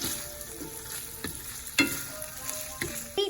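Ground beef browning in a pan for homemade enchiladas, giving a steady soft sizzle and crackle with a few louder pops and scrapes, close up with no talking.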